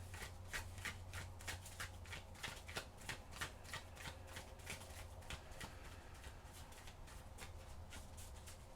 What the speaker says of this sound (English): Maybe don't shuffle so close to the edge.